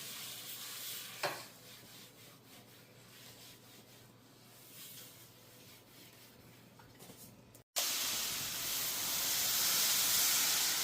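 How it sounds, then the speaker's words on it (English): A hot pan heating on a burner for rava dosa gives a soft, steady hiss with a brief scrape near the start, then a sudden louder burst of sizzling after a short break. "అలా సౌండ్ రావాలి. So the pan is వేడెక్కింది అని తెలుస్తుంది."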